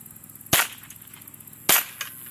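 Two sharp gunshots about a second apart, each followed by a ringing metallic ping from a spinning bullseye steel target, loud and clear over faint background.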